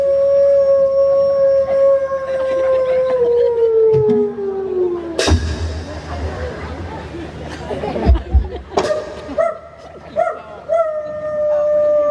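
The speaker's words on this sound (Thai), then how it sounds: "หอนได้หอนไป" A drawn-out howl glides slowly downward and breaks off, followed by a burst of noisy commotion, then another long howl rises again, loud and close, with chatter and laughter around it.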